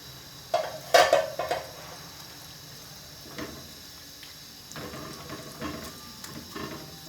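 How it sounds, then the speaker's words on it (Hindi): A spoon clanks and scrapes inside a metal pot while palak gosht ingredients are mixed before being set on dum, a few sharp metallic knocks early followed by softer stirring and scraping sounds. "इन सारी चीज़ों को अच्छी तरह मिक्स करके दम पे रख देते हैं"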